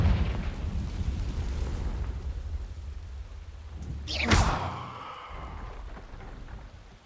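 A Confringo spell blast in Hogwarts Legacy, heard as one loud, booming explosion with a sharp crack midway, over a low rumbling, rain-like ambient bed that swells and then fades.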